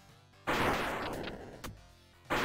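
Loud cartoonish gunshots in Duck Game: a sudden broad blast held for about a second, a short sharp crack soon after, and another blast starting right at the end, with no voices.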